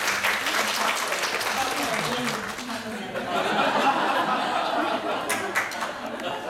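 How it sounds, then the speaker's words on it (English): An audience at an environmental education conference applauds volunteers, steady clapping mixed with chatter and light laughter, swelling again midway. "Applause for our brave volunteers."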